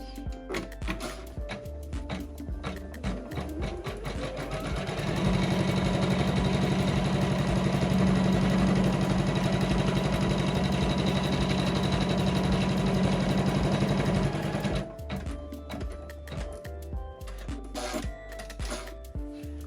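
A Janome 500E embroidery machine stitches an in-the-hoop felt Christmas ornament, its steady mechanical hum rising loud for about ten seconds in the middle, with quieter machine noise before and after.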